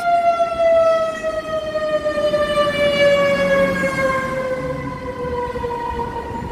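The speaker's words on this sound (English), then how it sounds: "when I hear a siren, it's always a fire engine" A fire engine siren wails loudly and steadily, its tone sliding slowly downward as it carries on without a break, with no talking over it.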